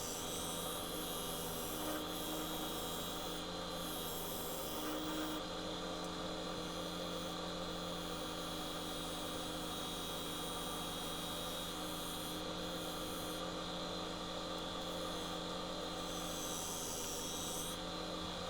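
Wood lathe spinning an elm stump bowl at speed, a loud, steady motor hum and whine with continuous broadband roar and occasional shifts in tone, unbroken throughout.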